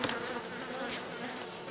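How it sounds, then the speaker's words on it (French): A honeybee swarm under roof tiles at night gives a faint, continuous buzzing hum for a couple of seconds, close and steady, with no voices. "Donc les abeilles, visiblement, il y en a encore quelques-unes là-bas."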